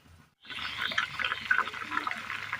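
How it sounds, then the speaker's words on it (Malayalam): After a moment of quiet, water is poured into a pot of plantain pieces for boiling, a close, steady splashing gush that continues to the end with no talking. "ഈ വാഴയ്ക്കൊന്ന് മുങ്ങിക്കിടക്കുന്ന രീതിയിൽ വേണം വെള്ളം ഒഴിച്ചു കൊടുക്കാൻ."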